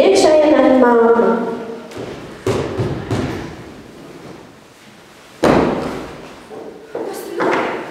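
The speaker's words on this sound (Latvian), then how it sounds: "Pēkšņi skan klauvējums pie durvīm un iekšā ienāk mamma." Knocks and thuds on a door during a school Christmas concert skit, several sharp, loud hits spaced apart, with voices talking before and around them.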